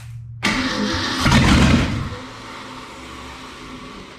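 A Ford FE 360 V8 with an open exhaust manifold, a long-idle engine sold as 'ran when pulled', cranks and fires abruptly, surges loudly in a brief rev, then drops back to a rough, steady idle.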